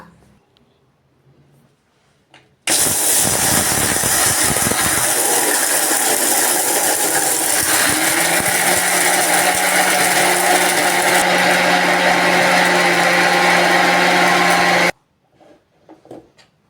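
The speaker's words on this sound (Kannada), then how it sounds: "ಇದನ್ನ ನುಣ್ಣಗೆ ಪೌಡ್ರ್ ಮಾಡಿಕೊಂಡು ಬರೋಣ" A kitchen mixer grinds dry coconut and poppy seeds to a fine powder, starting abruptly with a loud, harsh whirring roar that runs steadily for about twelve seconds and then stops, with quiet moments before and after.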